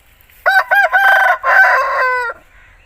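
An Aseel rooster crows once up close, loud and clear, in a long ringing call with a few stuttering opening notes before a sustained drawn-out tail.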